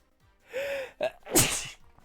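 A single sharp sneeze, preceded by a quick inhaling gasp, close to the microphone in an otherwise quiet room.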